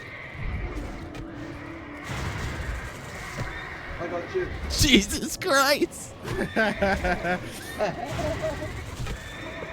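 Horses in the World of Warcraft video game neigh and whinny in several sharp, loud bursts mixed with hoof clatter, while someone talks and exclaims over them.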